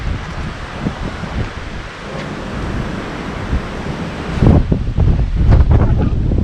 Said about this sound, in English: I can feel the wind here is going to kill everything